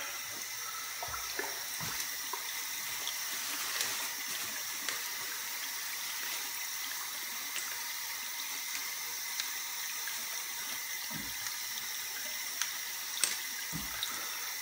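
Water poured down a sink drain while testing a drain-clearing tool, a faint steady trickling and running wash with occasional light knocks, continuous and fairly distant, no talk.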